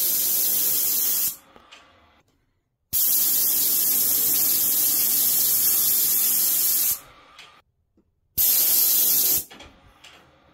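A spray gun lays a heavy coat onto the edges of MDF moulding in three loud, hissing bursts of different lengths, separated by near-silent pauses, with no talking.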